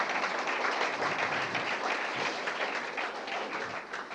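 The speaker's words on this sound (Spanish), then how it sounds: "un aplauso al Señor" Sustained applause from a church congregation, a dense patter of many hands clapping steadily for several seconds.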